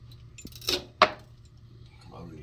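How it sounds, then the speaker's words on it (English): A Nicopress tool's built-in cutter snips through wire with a brief rustle and one sharp metallic snap, close and isolated against a low background hum. "These things also have a cutter. I'm going to just cut this thing off."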